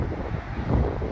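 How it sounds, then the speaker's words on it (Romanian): Strong wind roars steadily into the microphone outdoors while a Dacia 1300 is being loaded, a constant low rumbling buffet with no talk over it. "bate vântul de ne-a zăpăcit"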